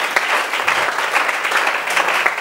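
Dense applause from an audience fills the whole stretch, a steady even clatter of many hands clapping close and loud, with no voices above it.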